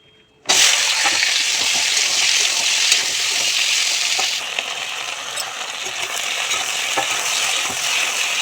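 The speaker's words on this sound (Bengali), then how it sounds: "এবার বেগুনটা ভেজে নেবো" Eggplant hits hot oil with a sudden loud burst of sizzling that continues strong and steady, easing slightly partway through, with occasional light scraping clicks and no talk.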